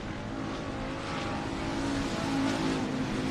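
Factory stock race cars roar around a South Texas dirt racetrack in a steady, distant drone of engines that swells slightly as the pack passes, with no talking.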